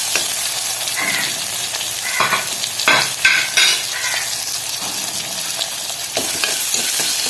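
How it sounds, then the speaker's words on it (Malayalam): Tomatoes sautéing in a pan for a home-style curry, loud sizzling broken by several bursts of spoon stirring and scraping, no voices. "അതിനുശേഷം തക്കാളി വഴറ്റുക."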